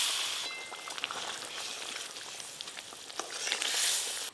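Fried katla fish pieces go into a fish-oil curry boiling in a pan, bringing a soft sizzle and bubbling with small splashes and clinks, fairly quiet throughout.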